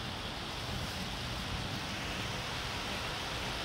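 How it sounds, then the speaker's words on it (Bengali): Steady, dense hiss of heavy rain pouring without a break, broad and constant throughout. "এই যে জোর বৃষ্টি নেমেছে"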